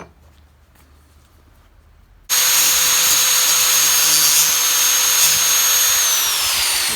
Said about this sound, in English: So I'll grind this upper side here and this lower side here.